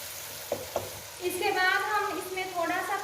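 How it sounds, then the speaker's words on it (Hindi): Spices for a beef kofta curry are stirred in a hot frying pan, a couple of spoon knocks followed by a bright, steady sizzle and scraping that swells and stays close up. "अब सारे मसालों को अच्छे से हम मिक्स कर लेते हैं।"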